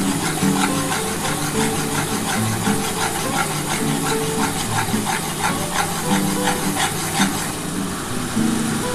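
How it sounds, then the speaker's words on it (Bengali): Masala frying in a pan for restaurant-style dry chilli paneer, with chilli powder among the spices: a steady, loud sizzle and hiss runs unbroken throughout, with no talk over it. "এবার একটুখানি ভালো করে মশলাটা দিয়ে কষিয়ে নিই।"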